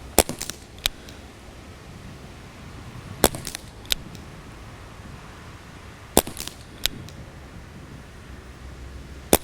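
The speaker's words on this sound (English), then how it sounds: "I'm going to shoot 2 10-shot groups really quickly." A Colt Python CO2 pellet pistol fired in a quick string of shots, each a sharp, close crack, irregularly spaced about one to three seconds apart over low background noise.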